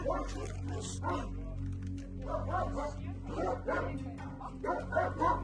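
Dogs bark and whimper in short bursts at an animal shelter while people talk nearby, fairly faint, over a low hum.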